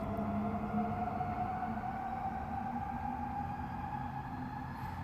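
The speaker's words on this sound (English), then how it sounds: "Back at the noisy train station." A noisy train station at night: a steady low rumble and a sustained tonal hum, like an idling train or station machinery, continuous and fairly loud throughout.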